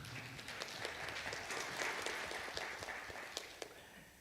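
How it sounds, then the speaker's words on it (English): A church congregation applauds with soft, continuous clapping at moderate distance, fairly quiet and steady for several seconds with occasional sharper claps. "So yes, you can clap for that."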